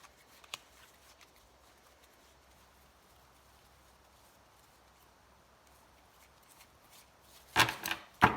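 Oracle cards drawn from a deck and shuffled, faint quiet handling with a soft tap early on, then a short burst of louder riffling card noise near the end.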